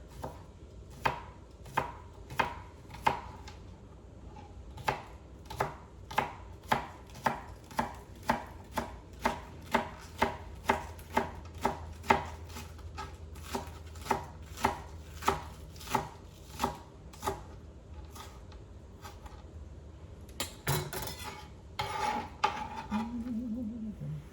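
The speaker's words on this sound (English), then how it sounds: "So I'm gonna cut up my scallion here." A knife chops scallions on a cutting board in a rhythmic run of about thirty crisp, evenly spaced taps, close and clear, followed by a brief clatter near the end. The scallions are being prepared for a Jamaican oxtail and rice and peas meal.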